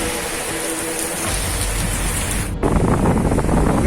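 Heavy rain lashed by strong wind in Karawang, Tangerang, a loud continuous roar of downpour and gusts that surges even louder partway through.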